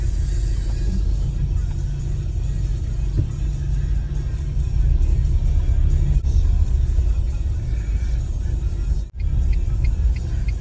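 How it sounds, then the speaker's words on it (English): A car engine warms up at idle, giving a steady low rumble close by for the whole stretch. A brief dip in the noise comes near the end. "I'm going to warm the car now"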